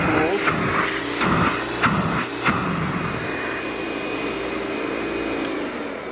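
A Hoover Dial-a-matic upright vacuum cleaner whines steadily at close range, with a few sharp clunks early on as its setting is switched over for tools, then a continuous drone.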